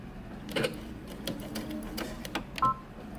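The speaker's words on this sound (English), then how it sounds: "I'm going to stitch this down using 3/8 of an inch seam allowance just to hold the pleat down" A sewing machine stitches down the pleat on a men's fitted shirt, short bursts of rapid mechanical needle clatter broken by brief pauses, close and fairly clear.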